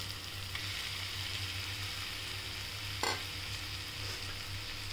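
Grated beetroot stir-frying in a pan gives a steady, close sizzle with a low hum underneath and one brief scrape of stirring partway through.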